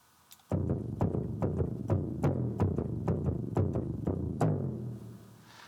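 Ring-modulated tone from two oscillators on a Hypersynth Xenophone synth plays alone in a steady run of metallic, clangorous hits, roughly a dozen evenly spaced strikes, ending in a fading tail.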